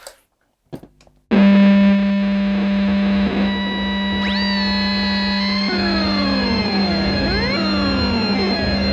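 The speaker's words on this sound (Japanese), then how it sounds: "このハーモナイザーというか勝手にこ う音色が追っかけてきたりとかですね、なんかこう発信できたりとか、伊藤さんが紹介してたみたいに" Loud sustained tone from a microphone through a harmonizer effect, pitch-shifting voices sweeping up and down over a droning base, preceded by a few brief taps.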